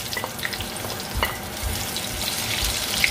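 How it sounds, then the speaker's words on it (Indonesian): Ginger and shallots sauté in a pan with a steady, close sizzle and frying crackle, stirred now and then, with no voices over it. "Tumis juga jahe dan bawang merah."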